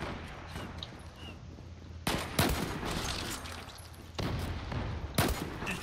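Gunfire in the online shooter Zula, a quiet stretch then sudden loud sharp shot bursts, including a sniper-type crack, with steady firing and no talk over it.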